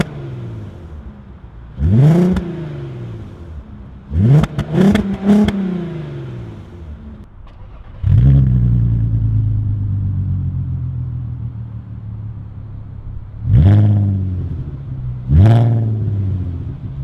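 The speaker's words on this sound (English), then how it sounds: "Let's do some like startups and some revs and see what happens." A VW R32 with a Milltek resonator-delete exhaust revs hard and close in five sharp bursts, each rising and falling. A longer rev settles into a deep, rumbling idle partway through.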